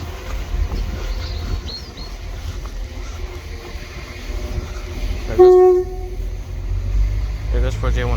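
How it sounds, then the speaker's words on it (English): Train passing a foot level crossing at Whitehead station, a rumble of rolling wagons broken by a short loud horn blast near the middle, with people talking nearby. "There goes for J10."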